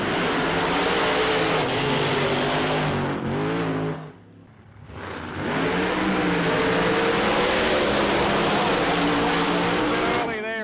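Two drag racing cars launching down the strip, a loud roaring engine howl that drops away briefly and then surges back, heard from close by with a commentator's voice over it.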